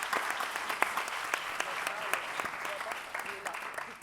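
An audience at a student improv competition applauds steadily as a jury member is introduced, with crisp individual claps over a dense wash and faint voices underneath.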